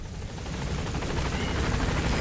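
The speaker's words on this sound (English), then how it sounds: "Support helicopter has arrived." A support helicopter in Metal Gear Solid V: The Phantom Pain arrives with a loud, steady rotor thump and engine roar that swells as it draws nearer, with no talking.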